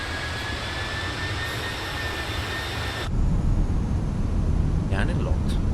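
An airliner in Microsoft Flight Simulator whines with steady engine and airflow noise, then a sudden louder, rougher rush of wind at about the three-second mark as the landing gear drops, with a faint voice underneath.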